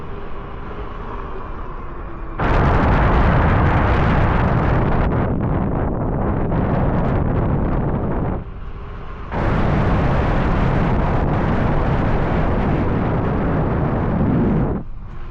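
Strong wind buffets the microphone in loud, roaring gusts that surge, briefly ease off, then return just as hard.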